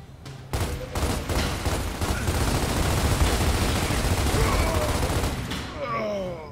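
Sustained heavy gunfire in Gears of War, a dense continuous burst of shots that stays loud for several seconds before tapering off, with battle noise and voices mixed in.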